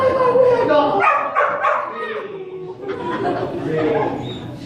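A rescued farm dog barks, yips and whimpers in short excited bursts close by, mixed with a person's voice and chuckling throughout.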